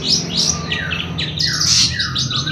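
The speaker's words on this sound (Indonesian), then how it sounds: "ini adu burung cendet ini" A long-tailed shrike sings close by in quick, bright chirping bursts and harsh trills, repeating steadily with no talking.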